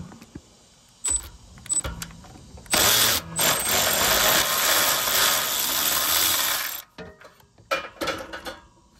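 A ratchet wrench turns a bolt out of a bracket on a Scag V-Ride mower during starter replacement, a dense, steady burst of mechanical clicking lasting several seconds between quieter handling knocks.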